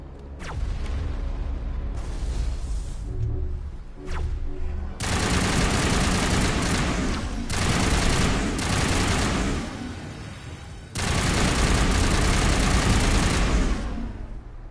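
Sustained bursts of automatic gunfire in the Mass Effect video game, loud and dense, arriving in long volleys separated by short lulls, with scattered single shots early on and no talking.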